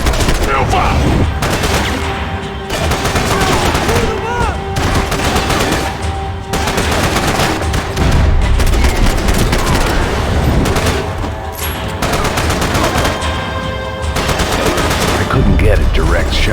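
Gunfire in Max Payne 3, long sustained rapid bursts of loud automatic and repeated shots throughout, near and intense with brief lulls, under occasional game voices.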